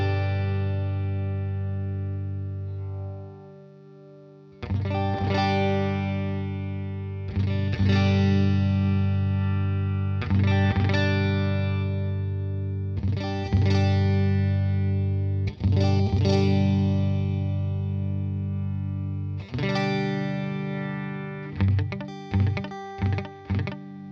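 Picked chords on a Stratocaster electric guitar with the EQ being adjusted, sharp strums recurring every few seconds and ringing out, loud and close with no talking.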